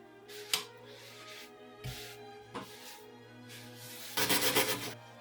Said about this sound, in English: The metal brush seems to be working pretty well to remove the grime.